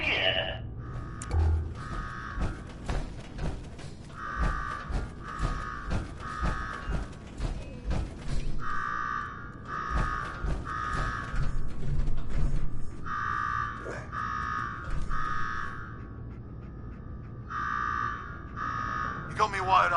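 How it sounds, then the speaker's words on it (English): Alarm buzzer in the video game Fallout 4, repeating in steady pulsing bursts throughout while voices talk over it and clanking mechanical game sounds scatter underneath. "Now go shut off that damn alarm."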